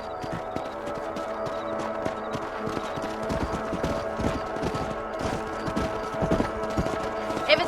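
Steady clip-clop of horse hooves trotting in the video game Red Dead Redemption, with a brief whinny and a low ambient music bed underneath.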